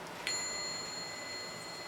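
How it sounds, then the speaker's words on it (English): A small bell struck once to cleanse the space, giving a single bright, clear ring with a long, steady, fading sustain over faint room noise. "let's get our little bell out here"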